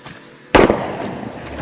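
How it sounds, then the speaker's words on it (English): Enemy gunfire in the video game Shadow of the Tomb Raider: a single sharp, loud crack-like burst followed by a ringing, echoing tail over a quiet ambient background. "that's the sound of them shooting innocent people"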